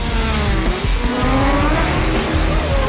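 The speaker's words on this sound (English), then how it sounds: "these pros race down the 1/8 mile track at a top speed of 150 miles per hour" 2,000-horsepower dragsters race down the eighth-mile strip at Piedmont Dragway in North Carolina during a Big Dog Shootout, a loud, close, continuous engine roar with shifting pitch and tire squeal.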